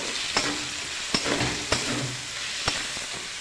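A salted spice paste being stirred in a hot pan for a tilapia curry: a continuous sizzle with several crisp spatula scrapes and clicks spaced about half a second to a second apart, with no talking.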